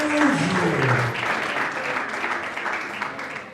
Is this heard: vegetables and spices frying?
no